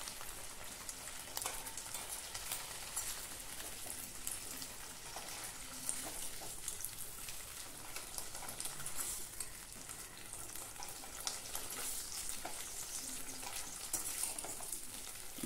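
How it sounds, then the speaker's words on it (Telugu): Ivy gourds (tindora) frying in oil in a pan, a steady, dense sizzle and crackle that holds at an even level for the whole stretch, alone without voices. "చూడండి దొండకాయలు చక్కగా వేగిపోయాయి"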